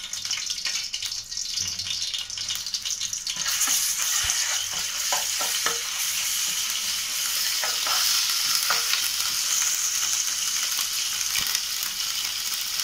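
Spices and ginger-garlic paste fry in a pan for mutton keema, a steady loud sizzle and crackle that swells after a few seconds, with light stirring and no talk.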